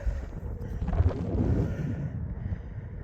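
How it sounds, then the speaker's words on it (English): Wind gusts buffet the microphone outdoors at a colonial-era site in upstate New York during metal detecting, a low rumbling roar swelling midway and then easing, with no voices. "getting windy out."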